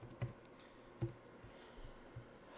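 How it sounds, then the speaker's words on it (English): A few scattered keystrokes on a computer keyboard, soft and close, with two sharper key clicks standing out against a quiet room. "Let's type"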